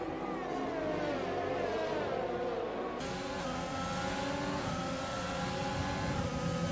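Racing cars circling the Abu Dhabi circuit in a racing video game, a steady, continuous engine drone with shifting pitch that holds at an even loudness throughout, with no voices.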